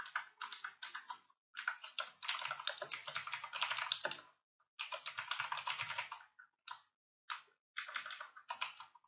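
Rapid bursts of typing on a computer keyboard while entering HTML code, dense clattering keystrokes in runs of a second or two separated by short pauses, close and steady with no voices.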